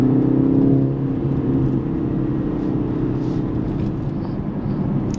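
A 2024 Mercedes-AMG GLC 43 Coupe with a 2.0-litre turbocharged inline-four is driven, giving a steady low engine hum and road whir from inside the car, easing slightly after the first second, with no talk.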